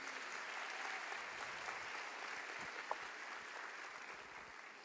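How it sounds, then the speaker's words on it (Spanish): A church congregation applauds during a sermon, a steady wash of many hands clapping that carries evenly from start to finish at moderate level, with a few sharper claps standing out near the end. "Denle un aplauso al Señor si está feliz."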